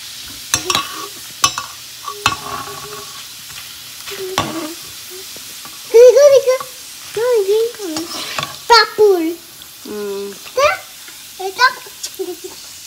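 Papad crisping in hot oil in a home kitchen, a steady sizzling hiss with scattered pops and clicks of a utensil, while a voice and an adult talk over it nearby.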